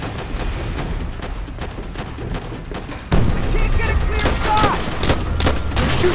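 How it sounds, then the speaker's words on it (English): Enemy machine gun fire in the video game Call of Duty: World at War, with rapid loud bursts of gunshots that grow denser and louder halfway through, and shouted voices mixed into the battle. "Enemy machine! Keep on that MG!"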